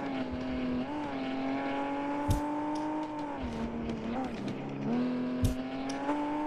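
Race car engine in a career-mode racing video game, a steady loud drone that dips and climbs with shifts and throttle changes, with occasional bumps and tire noise, continuous throughout.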